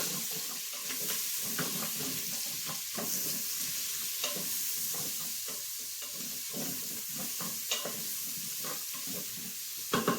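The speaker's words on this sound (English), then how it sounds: "Okay, so now we're going to saute those a little bit." Onions and sausage sauteing in an Instant Pot, a steady sizzle broken by repeated scraping stirs of a utensil across the pot, fairly close and moderately loud.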